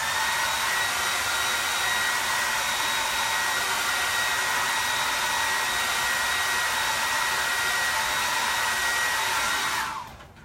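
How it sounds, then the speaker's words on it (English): A hair dryer blows with a loud, steady whooshing hum for about ten seconds while drying chalk paste, then switches off and winds down at the end. "take a hair dryer to it for literally about 30 seconds or so"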